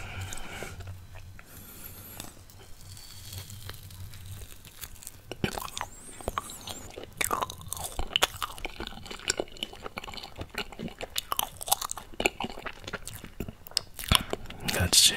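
Crunchy chewing of a pink marshmallow unicorn pop, close and quiet, with repeated crisp bites and mouth sounds building through the clip, under soft whispery noise.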